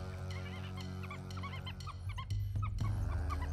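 Wild dogs chasing prey give rapid, high twittering and yelping calls over a steady low rumble, with a heavier thumping rush building toward the end.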